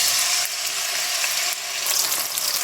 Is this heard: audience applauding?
no